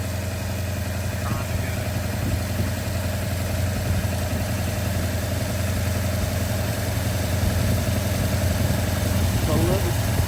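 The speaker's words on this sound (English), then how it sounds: "Idling real high." A car engine idles at a high, steady rev while its ignition timing is adjusted, a constant droning hum with no pauses, heard up close.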